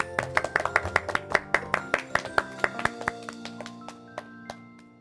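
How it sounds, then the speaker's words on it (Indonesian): Hands clap in a lively, fairly regular rhythm of about twenty sharp, close claps, slowing and thinning toward the end, with no voices. "Tepuk tangan yuk"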